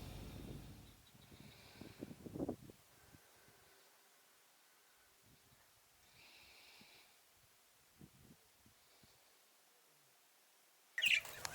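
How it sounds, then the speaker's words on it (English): Small birds chirp and squabble near a desert camp, bursts of rustling and scuffling early on, faint tweets scattered across a quiet background, and a sharp louder flurry near the end. "the birds arrived in massive numbers"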